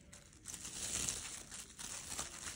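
Plastic bags crinkle and rustle close up as dumplings are packed for the freezer, a steady, fairly quiet crackling with small swells, no talking.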